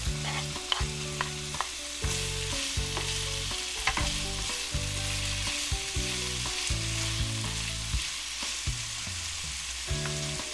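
Shrimp sizzle and crackle in a hot pan for arroz valenciana while someone stirs, with steady close frying hiss, scraping of the utensil and a low musical hum beneath.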